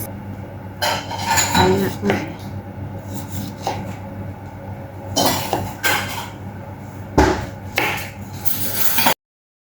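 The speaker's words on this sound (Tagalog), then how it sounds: "Sunod naman nating hiwain yung ating kamatis." A knife slices tomatoes on a board for a sweet potato salad. It makes irregular thuds, clinks and scraping taps, with a sharp knock near the end. A person talks quietly in the background.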